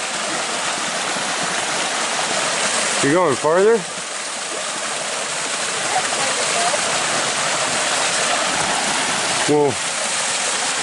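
Steady broadband rush of water flowing through a shady creek, running continuously at close range, with brief speech from a couple of people breaking in twice.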